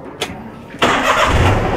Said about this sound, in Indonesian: Oke, mesinnya kita hidupkan guys ya.